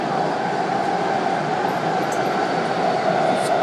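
Interior ride aboard rehabilitated Breda 2047 metro railcar heading to Gallery Place: a steady, moderately loud broadband rumble of the insulated car rolling along, continuous and even throughout with no voices.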